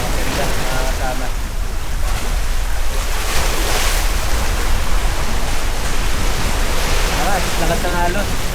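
Loud, continuous roar of strong ocean surf and wind buffeting the microphone at the Hundred Islands, Pangasinan, with waves churning steadily nearby and faint voices in the mix.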